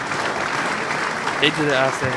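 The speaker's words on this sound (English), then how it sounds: "Give Memphis another round of applause" Sustained crowd applause at a Memphis versus Georgia mass marching band battle, steady and dense throughout, with a voice talking over it near the end.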